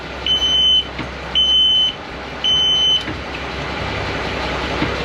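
Three evenly spaced, piercing electronic beeps from a sailboat engine alarm sound over a low steady engine hum, then the beeping stops and the engine continues.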